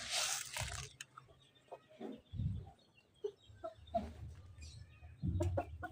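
Chickens and a rooster clucking and calling in a village yard while being fed millet, scattered close clucks and squawks with some rustling and a louder burst at the end, no talk.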